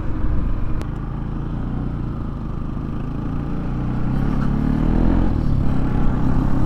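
A freshly serviced motorcycle cruises along with a steady low engine rumble that swells slightly as it pulls strongly, with road and wind noise all around.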